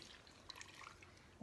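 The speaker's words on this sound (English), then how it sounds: "Pour it up nearly to the top. So a full cup of milk," Milk pours into a measuring cup for pancake batter, making a soft, faint trickle with scattered small drips, and a sharp knock lands at the very end.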